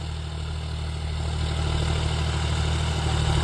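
A John Deere 5105 tractor fitted with an 8.5-foot Maschio rotavator idles with a steady low diesel drone and a strong rumbling hum, growing slightly louder toward the end, with no voices.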